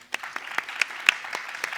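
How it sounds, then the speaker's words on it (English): Sparse audience applause at a UK climate resilience panel discussion, individual claps ringing out fairly clearly over a soft spread of clapping for just under two seconds. "round of applause for Rob"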